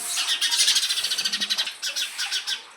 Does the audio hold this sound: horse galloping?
no